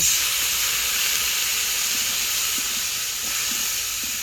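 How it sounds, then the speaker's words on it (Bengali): Water poured into hot spices (turmeric and cumin powder) frying in a pan for a fish curry sets off a loud, steady broadband hiss and sizzle that holds evenly throughout, close by. "জিরের গুঁড়ো দিয়ে দেব একটু জল দিয়ে দেব"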